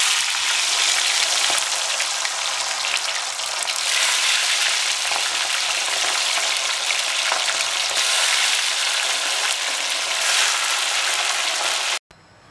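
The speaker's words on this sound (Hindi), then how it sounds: "एक एक पीस करके अब इसको हम तेल में डालेंगे और फ्राई करेंगे" Marinated chicken pieces fry in hot oil for chilli chicken, a loud, steady close sizzle that continues unbroken before cutting off abruptly.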